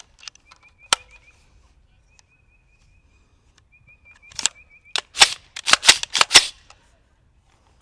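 A 7.5-inch AR pistol chambered in 7.62x39 fires outdoors: one sharp crack early on, faint clicks and quiet, then a rapid string of loud close shots near the end.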